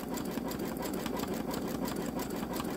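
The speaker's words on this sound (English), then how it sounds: "I guess it's just going to go this slow because it's such a wide satin stitch." A Babylock Solaris Vision embroidery machine stitches a wide satin stitch, giving a steady, even mechanical whirr with a fast, continuous needle patter, close and constant with no voices.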